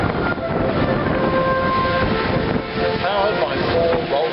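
An Airbus A380 double-deck airliner with four Rolls-Royce Trent 970 engines passes overhead at the Singapore Airshow, a loud, sustained jet roar with whining engine tones running through it.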